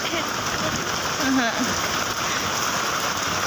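Heavy rain of the first rain of the year pours down steadily, a dense constant hiss of drops on surfaces, with faint voices mixed into the downpour.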